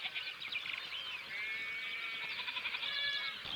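Sheep (ewes) bleating continuously on a salt marsh pasture in the Baie de Somme, several overlapping calls forming a steady, fairly close chorus with no talk.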